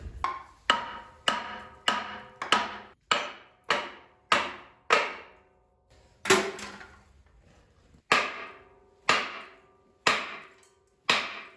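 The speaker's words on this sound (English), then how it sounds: "you could try smacking it with a hammer" Repeated sharp hammer blows on a metal puller on a big-block engine's harmonic balancer, about a dozen evenly spaced strikes, each ringing briefly before the next, close and loud.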